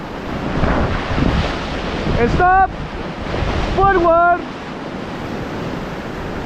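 Roaring white-water waves batter a raft on a jungle river trek near Cusco, Peru, a loud, continuous rush with wind buffeting the microphone, broken twice by a guide shouting commands over the water.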